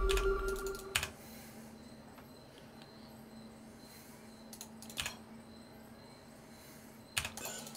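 Keyboard typing during a StarCraft-style match, a few short clustered bursts of keys near 1, 5 and 7 seconds over a low steady background hum, fairly quiet with no talk.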